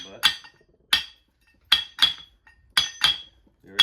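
Sharp metallic hammer blows pounding on a Porsche Cayenne driveline part, about seven separate strikes at uneven intervals, close and loud with quiet gaps between them.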